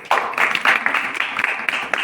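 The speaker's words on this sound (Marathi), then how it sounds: "टाळ्या वाजला या छोट्या मुलासाठी" A crowd at a prayer gathering claps for a small child, dense and fairly close applause that stays lively throughout the clip.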